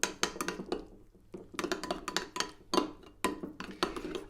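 Spice paste is stirred into yogurt in a bowl, making a rhythmic series of soft scraping clinks and wet squishes as a utensil works around the bowl at close range.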